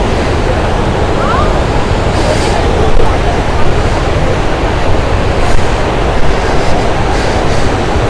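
A waterfall at Chandanwari in Kashmir's mountains roars loudly and constantly close by, a dense, unbroken rush of falling water.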